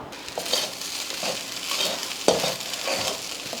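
Chilli rice being stirred and mixed in a pan, with a steady scraping and shuffling of a spoon through the grains over a light sizzle, plus a few sharper knocks against the pan, close and alone without talk.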